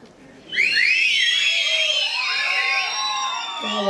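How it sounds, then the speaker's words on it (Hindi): Audience whistling at a church blessing meeting in Thane: loud, shrill whistles burst out after half a second and carry on together with crowd cheering and shouts until the end. "एक सीटी मारो।"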